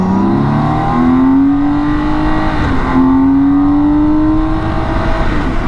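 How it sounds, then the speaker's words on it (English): BMW K1600 GTL six-cylinder touring motorcycle on Road Pilot 6GT tyres, engine pulling hard on a curvy road with a steadily rising whine as it accelerates, loud and close with continuous wind rush underneath. "Now the huge amount of torque that the K1600 has should be shredding these tyres, but they're not."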